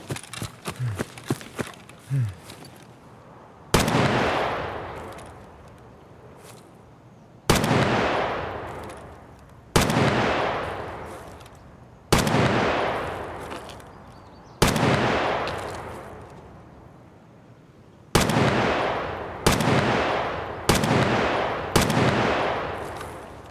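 Single shots from a gun in the video game Escape From Tarkov, loud sharp cracks with long decaying echoes, about eight spaced irregularly, after a brief patch of quieter clatter.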